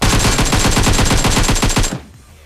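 Rapid automatic bursts from a Bizon submachine gun in a battle royale video game, a dense loud string of shots for about two seconds before stopping.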